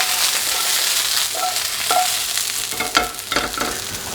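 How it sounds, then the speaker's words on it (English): Vegetables blister in hot oil with a touch of maple syrup, a loud, dense sizzle filling the clip, with spatula scrapes and stirring bursts toward the end, heard up close with no speech. "It's pretty much just blistering the skin, in with a touch of maple syrup."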